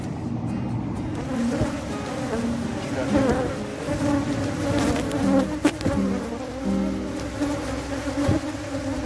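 Honey bees buzz steadily at an open hive, a dense, continuous drone of many insects close to the listener with brief rustles and knocks from handling the hive, no talking.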